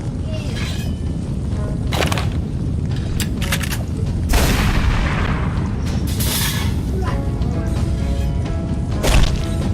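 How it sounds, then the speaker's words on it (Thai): Several sharp booms and blasts go off in a video game soundscape, with loud bursts spaced irregularly and a voice speaking between them. "มันจะระเบิดแล้ว"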